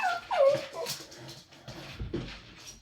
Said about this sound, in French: Excusez-moi, j'ai le chien qui fait du bruit.